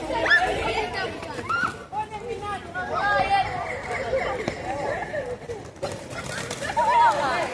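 Pigeons coo in Pigeon Square in Sarajevo, soft repeated calls heard amid a busy public square with crowd chatter and nearby voices talking over them.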